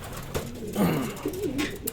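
Racing pigeons arriving at the loft during a derby, soft throaty cooing heard close over faint background bustle, with a few brief rustles and no clear talking.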